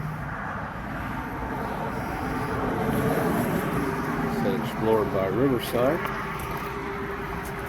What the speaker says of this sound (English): Sorry about the road noise, guys.